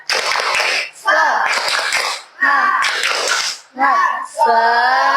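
A classroom of children doing a rhythmic clapping chant, loud bursts of claps and young voices in four or five phrases separated by short pauses, close and lively.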